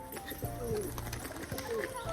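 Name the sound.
crested pigeons cooing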